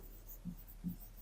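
A pen scratches quick math notation onto paper during a polynomial lesson, two soft close strokes in about a second, faint and without talk.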